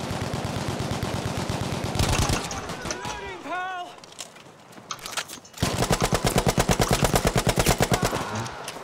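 Rapid bursts of Bren light machine gun fire in the video game Battlefield V, loud and close, with a sweeping whistling effect between bursts and a long sustained burst at the end.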